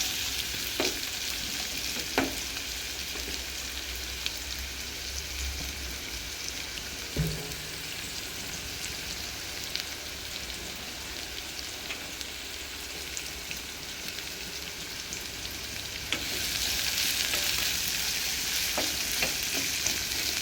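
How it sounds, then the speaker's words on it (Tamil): Onions frying in a pan for a chicken curry, a long, steady, moderately quiet sizzle with a few scattered clicks of stirring and a swell of hissing toward the end; nobody talks. "ஒரு 2 minutes நல்லா வதங்கட்டும். வெங்காயம் நல்லா ப்ரௌன் ஆகட்டும்."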